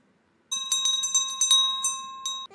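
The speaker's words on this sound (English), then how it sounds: "let's ring the bell." A bright bell rung in rapid repeated strikes, loud and close, each ring sustaining a clear ringing tone for about two seconds with no talk over it.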